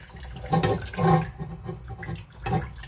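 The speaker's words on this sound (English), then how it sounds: "I first begin by pouring out everything in the blender" Water and carrot punch ingredients splash and pour into a blender in bursts, with a gurgling liquid rush that swells twice and returns near the end, close by.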